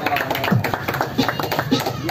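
Scattered audience clapping at a rap battle, loose irregular claps heard beneath someone talking over the crowd noise.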